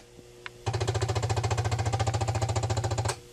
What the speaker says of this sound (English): That noise you hear is the disk drive controlled through the user port seeking to track 0,